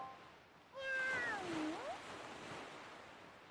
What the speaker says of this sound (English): I do like how they changed the meow for the female Link.